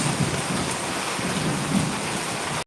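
Heavy rain pours steadily over an outdoor guppy pond, a dense, close hiss with a low rumble underneath and no voices.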